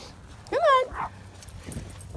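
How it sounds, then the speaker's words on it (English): A dog gives one short, high-pitched yelping bark while playing outdoors, then small soft noises follow as the scene goes quiet. "She keeps doing the play bow and barking at him"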